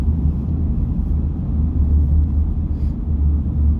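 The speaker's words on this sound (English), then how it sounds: "there's a long train" A long train rolls past, a steady, heavy low rumble that holds at an even loudness with no break from start to finish.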